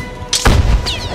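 A single gunshot in an animated Peter Pan adventure scene, a sharp loud crack with a booming low thud, followed by a brief ringing tail.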